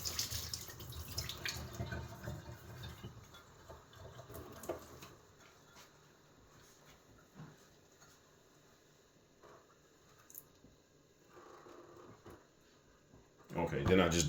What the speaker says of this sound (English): Now I'm just gonna pour the water off of them.